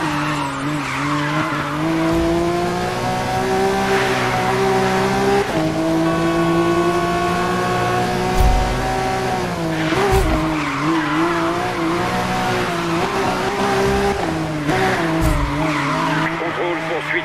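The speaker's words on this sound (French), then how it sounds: "Je poursuis des voitures lancées à grande vitesse sur la Laguna Rail." Cars race at high speed on the Laguna Rail in Need for Speed Rivals, with loud continuous engine whine shifting pitch through gear changes and bursts of tire squeal and skidding, a voice talking over the engines.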